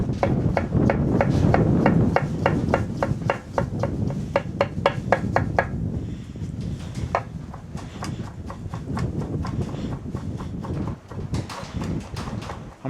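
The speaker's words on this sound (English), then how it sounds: "I'm gonna chop the pickles up kind of on the finer side." A knife chops spicy pickles on a cutting board while making a smash burger, with a fast series of sharp, close knocks in bursts, a short pause midway, then more chopping.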